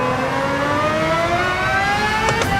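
A loud race car engine in Gran Turismo 7 revs continuously, its pitch climbing steadily as it accelerates, with a droning, harmonic roar that fills the whole stretch.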